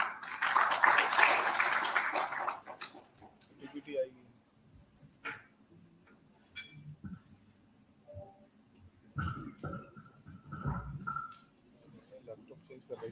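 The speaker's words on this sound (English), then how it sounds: "Please give him a big round of applause." An audience at a supply chain conference in India applauds a speaker in a burst of clapping for about two seconds, then it fades into quieter voices talking and some scattered room noise.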